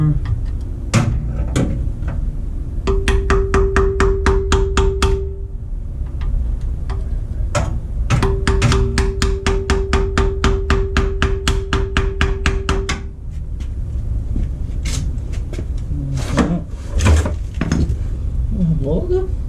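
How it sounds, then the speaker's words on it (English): Repeated hammer taps on a car oil pan during a 1JZ VVTi engine swap into a Scion FR-S in a garage, rhythmic bursts of sharp ticks in fast runs, fairly loud and close, with a voice talking over parts. "Tap it up with a hammer."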